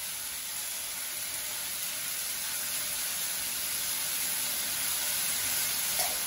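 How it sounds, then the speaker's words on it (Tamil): Tomatoes sautéing with salt in a pan for sambar make a steady, even hiss of gentle frying that runs unbroken at moderate volume, with no voices. "இந்த தக்காளி நல்லா வதங்கிடுச்சு."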